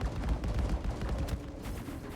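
Turret gunfire in the Star Citizen space game, played in VR: a dense, rumbling stream of rapid shots that runs unbroken for about two seconds at steady, fairly loud volume, with no voices.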